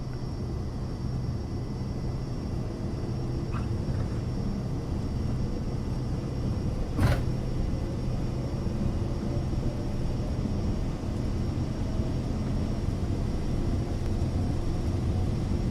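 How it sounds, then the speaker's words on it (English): Airplane engines at takeoff power in Microsoft Flight Simulator, a steady, loud, continuous roar that holds through the whole stretch, with one brief click near the middle. "Takeoff power is set."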